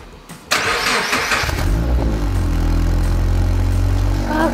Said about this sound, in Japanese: エンジンかけてみましょう。